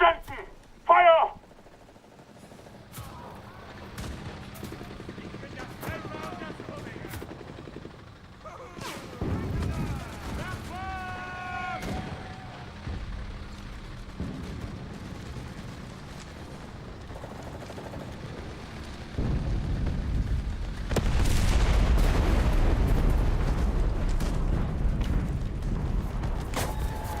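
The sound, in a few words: artillery strike exploding, from the video game Enlisted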